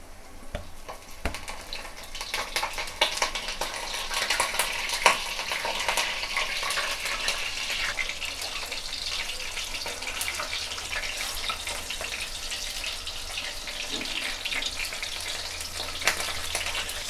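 Fish pieces frying in hot oil in a home kitchen, a loud, continuous, dense sizzle that builds and holds steady, with occasional clinks and stirring noises.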